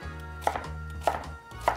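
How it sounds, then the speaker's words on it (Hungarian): A knife dices sweet potato into small cubes on a board for vegan sweet potato and spinach gnocchi, with three crisp, evenly spaced chops standing out close and clear over a low background hum. "Fölkockázom először őket, tetszőleges méretre lehet kockázni."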